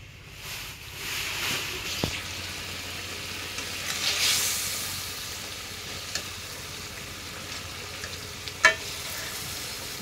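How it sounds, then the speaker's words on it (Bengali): Fish frying in a pan gives a steady, moderate sizzle throughout, with a few faint clinks and stirring touches near the end. "মাছ ভাজি দেখ করা হয়ে গেছে"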